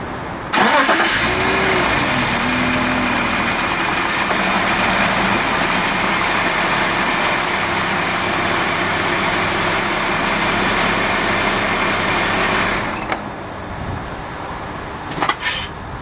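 A car engine starts after an oil change, then settles into a steady, loud idle close by for about twelve seconds before it shuts off, followed by a few faint clanks.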